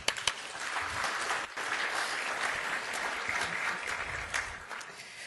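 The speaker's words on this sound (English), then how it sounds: "So let's give each other a round of applause." A steady wash of audience applause at an economic summit, many hands clapping together fairly far off and evenly sustained for the whole stretch, with no talking over it.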